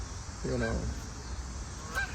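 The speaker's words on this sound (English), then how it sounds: "oh, there's a geese behind me somewhere." Geese honk outdoors somewhere behind the listener. One clear honking call is followed by a shorter, fainter honk, both fairly distant over a steady background hiss.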